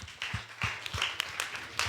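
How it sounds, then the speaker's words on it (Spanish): A church congregation applauds, a short stretch of close, somewhat uneven clapping with crisp individual claps, fairly quiet overall. "Den un aplauso, Señor."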